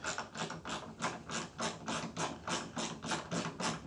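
Nuts being tightened on a plywood miter saw stop with a ratchet wrench: a steady run of about a dozen rapid ratcheting clicks in regular bursts, close and fairly loud, with no talk.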